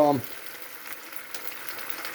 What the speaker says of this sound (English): when that starts to sizzle, throw some tomatoes in there